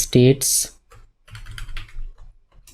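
Keys clatter on a computer keyboard while code is typed, coming in quick uneven clusters of clicks with a voice speaking at the start and over parts of the typing.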